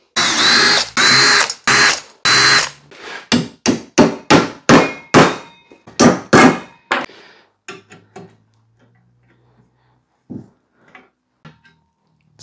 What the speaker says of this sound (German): dann schraubt man den Hebel unten hin.